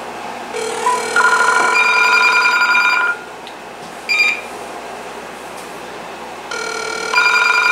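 A Vtech IA5854 5.8 GHz cordless phone rings with bright electronic trill bursts, loud and close, repeating in bursts separated by short pauses with faint background hum.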